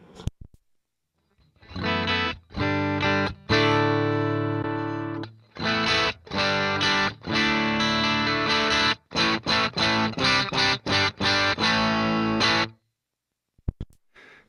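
Electric guitar played through an A-Killertone Trench Coat Driver overdrive pedal set for a clean Jazz Chorus-style amp tone, gain at zero yet slightly broken up; loud chords and notes ring on steadily with short pauses, ending in near silence.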